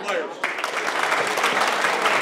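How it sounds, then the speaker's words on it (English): Sustained audience applause for two pool players at a billiards tournament match, a dense even patter of many hands clapping at moderate volume, with a commentator's voice at the start. "Big round of applause here."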